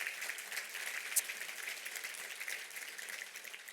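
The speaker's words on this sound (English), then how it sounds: "So if we could give them a round of applause." An audience at a business power breakfast with the NYPD Commissioner applauds, a steady wash of clapping held at an even level for a few seconds.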